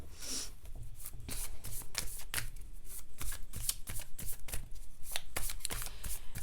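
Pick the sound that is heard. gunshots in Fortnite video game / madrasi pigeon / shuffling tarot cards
shuffling tarot cards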